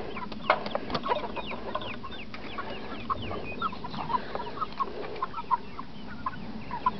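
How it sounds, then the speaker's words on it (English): Backyard chickens cluck in repeated short calls, fairly close and clear, over a steady outdoor background that also holds ducks and a goose. "So, that's my chickens."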